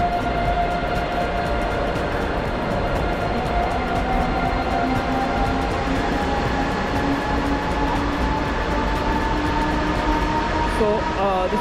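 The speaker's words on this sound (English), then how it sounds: "So this is my train," An electric Haramain high-speed train at Jeddah Al-Sulaymania station gives off a steady, loud rumble with a rising tonal whine held throughout, close by on the platform.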